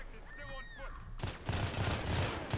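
Rapid video game gunfire in GTA with the LSPDFR police mod: a voice talks briefly, then a loud, dense burst of repeated shots fires in quick succession for over a second.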